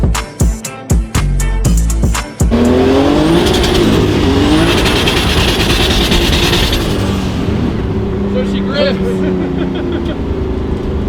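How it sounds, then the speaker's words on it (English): A turbocharged BMW E36 spins its wheels on cold tires at a race track: a few sharp close knocks, then a loud sustained engine roar with rising revs and tire noise, easing off near the end. "Going outside, cold tires. Yeah, it's all wheel spin."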